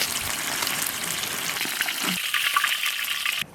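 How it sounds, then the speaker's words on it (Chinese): Thick pieces of a large salted, marinated black carp sizzle in hot oil in a wok as both sides are pan-fried until golden and firm, a loud, crackling hiss close up that cuts off abruptly at the end. "把鱼的2边煎黄煎硬"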